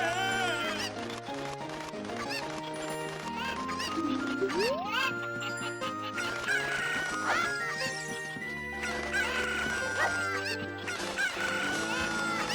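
Cucco chickens cluck and crow in Zelda: Ocarina of Time, mixed with game music and jingles over several seconds, while a voice speaks at times.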